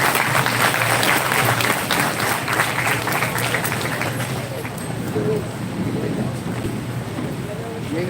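An audience at a national-level MBA fest claps in a sustained, dense burst of applause that gradually thins, with voices audible over it.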